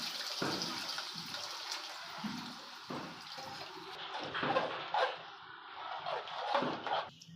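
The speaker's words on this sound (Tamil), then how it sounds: "இப்போ புளி தண்ணி அதில் ஊற்றிடலாம்" Tamarind water is poured and splashes into a pot of curry in a few uneven bursts, with light clinks of utensils, fairly close and quiet.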